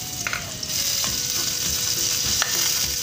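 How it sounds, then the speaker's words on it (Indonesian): Steady oil sizzle of garlic and chili frying in a hot wok, with a few clinks of a utensil stirring, close and continuous, no talking. "Kita tumis bawang putih dan cabai."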